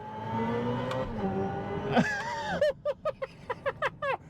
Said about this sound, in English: Shifting an EV and the simulated shifts, it's a kick in the pants.